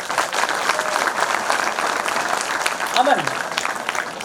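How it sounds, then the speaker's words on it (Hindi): An audience at a cultural evening put on by trainee officers claps steadily and loudly throughout, a thick, even wash of applause with a brief voice surfacing over it. "पर वो तभी आएंगी जब बजेंगी तालियां ढेर सारी।"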